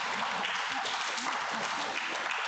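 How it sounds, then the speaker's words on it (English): Congregation at a Sunday service applauding retreat participants, a steady wash of many hands clapping at moderate level throughout. "Give them big applause."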